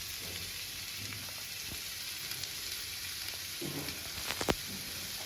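Diced potatoes sizzle and fry steadily in a pan while a spoon stirs them, making soft scrapes and a few sharper clinks against the pan.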